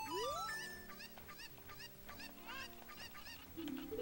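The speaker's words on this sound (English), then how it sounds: "Oh, there's a chicken." Cartoonish game-sound cackling of a chicken in a Zelda video game, a rising squawk followed by a rhythmic series of short clucks over a steady game music backdrop.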